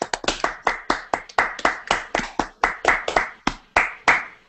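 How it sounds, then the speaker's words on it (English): A small group claps in a short round of distinct, sharp hand claps, close and fairly loud, with no talk over it. "a big round of applause for them"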